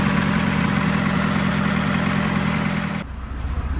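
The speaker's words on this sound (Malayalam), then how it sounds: "ഇതാണ് ഈ ബോട്ടിൻ്റെ എഞ്ചിൻ" A boat engine running on a Sundarbans mangrove trip, a close, steady low idling hum that drops away sharply near the end.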